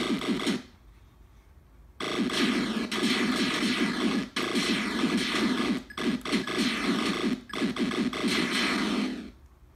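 Arcade1Up Asteroids & Centipede cabinet plays loud, dense arcade game sounds from its rear speaker, in bursts of buzzy, crackling effects broken by a few brief pauses, with no talking.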